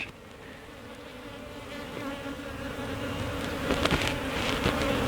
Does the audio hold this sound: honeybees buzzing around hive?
yes